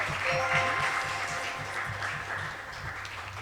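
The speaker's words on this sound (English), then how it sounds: "Sorry about that poor clapping" Weak, sparse clapping from a small audience at a schools quiz competition is heard, thin and scattered, with a low hum and faint voices underneath.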